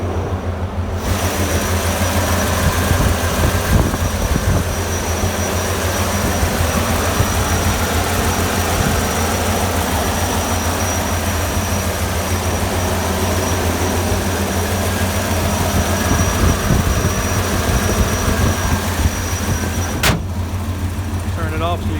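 The big block engine of a 1992 Chevrolet crew cab 4x4 pickup idling close by: a loud, steady low rumble with a deep, even throb that holds for over twenty seconds.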